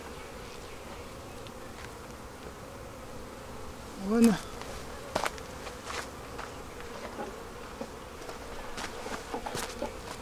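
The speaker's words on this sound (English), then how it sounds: "because they have a lot of bees in there" Honeybees in a crowded hive that is ready to swarm hum in a faint, steady drone throughout. A brief voice counts aloud, and a few sharp knocks and clatters break in near the middle.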